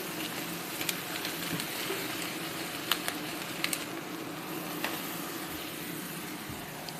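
Eggs with melting cheese fry in a pan, giving a continuous close-up sizzle with scattered sharp pops and crackles.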